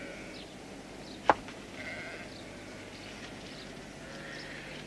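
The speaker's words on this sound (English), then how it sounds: "You know, these look like our sheep to me." Sheep bleat faintly in an open outdoor setting, a few soft calls over low background noise, with one sharp knock partway through.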